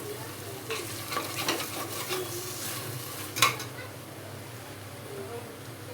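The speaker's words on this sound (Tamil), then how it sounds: "இப்போது நம்ம தக்காளி போட்டுக்கலாம்." Tomato being added to a hot pan and sautéed, a steady sizzle with a few stirring scrapes and one sharper clatter of utensil on pan.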